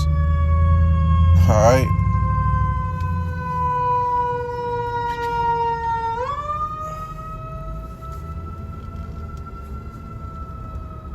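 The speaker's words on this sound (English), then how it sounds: "All right, you can sound the alarms." Wailing alarm sirens sound with strong, ringing tones whose pitch slides upward partway through, loud and sustained, with a brief spoken remark near the start.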